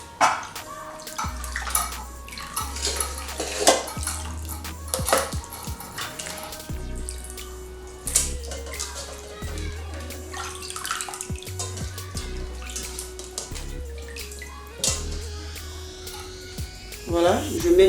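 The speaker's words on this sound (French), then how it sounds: "je mets de l'eau pour rincer" Cold tap water runs and splashes steadily over freshwater fish being rinsed with lemon in a kitchen sink, loud and close, with brief pauses and knocks between flows.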